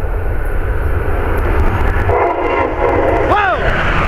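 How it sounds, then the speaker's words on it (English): An Amtrak Northeast Regional train rumbles loudly past at Norwood, a steady roar of wheels and cars, with a short blast of its horn near the end. "This is Amtrak."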